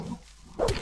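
Orc dogs in the video game Gothic 1 give a short bark at the end of a brief stretch of quieter game ambience.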